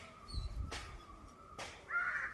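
A crow gives two short, distant caws about a second apart, faint against a quiet outdoor background.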